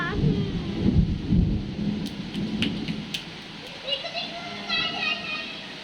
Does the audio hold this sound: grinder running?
no